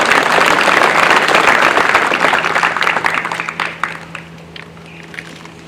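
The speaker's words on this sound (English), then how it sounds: "Please give them, father and son, a round of applause." An audience at a workers memorial gives a round of applause for a father and son, a loud, full burst of clapping that tapers off into scattered claps and fades out.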